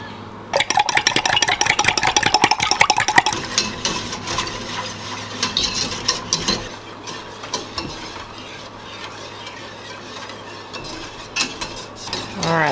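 Steady scraping and stirring of a thickening egg mixture in a pot, busy and close at first, then softer, with a constant low hum from a stove or appliance underneath.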